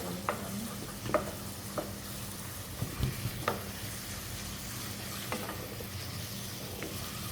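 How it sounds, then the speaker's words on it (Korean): Meat stir-frying in a pan over medium heat, with soy sauce swirled in, for jjamppong: a steady close sizzle with scattered scraping clicks of stirring, and no talk. "자, 그래서 지금 중불로 고기를 볶고 있습니다."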